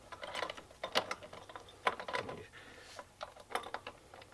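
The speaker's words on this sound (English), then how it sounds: "We're going to put the nut on and we're going to tighten it up." A hand ratchet tightens the nut on the front wheel axle of a Honda Grom, giving a quiet series of irregular clicking strokes up close with short pauses between them.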